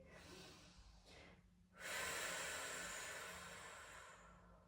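Deep breathing during a yoga pose: a short exhale, a pause, then one long, loud, hissing breath close to the microphone that slowly fades, with no talking.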